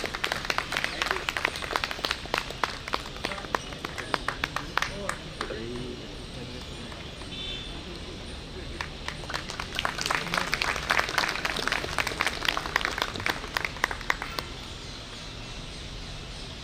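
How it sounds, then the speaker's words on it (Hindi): Audience applause fills a hall during a New Year celebration function of an engineers' association, steady clapping running under and around an announcer's voice introducing guests. "तालियां बजाते रहिए दोस्तों।"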